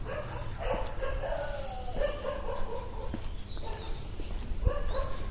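Stray dog in monsoon-season North Goa, India, giving soft yips and whimpering barks at middle distance over outdoor ambient noise, with faint bird calls.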